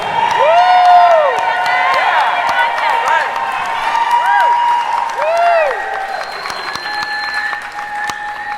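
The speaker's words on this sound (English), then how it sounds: "Please keep that applause going for Caitlin's maid of honor" Wedding reception guests clap loudly for the maid of honor, with cheers and rising whoops over the dense applause, which eases slightly toward the end.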